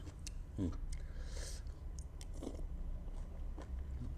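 Someone bites and chews crunchy Thai pounded squid tentacle salad up close, with a few distinct crisp crunches spaced over a quiet background.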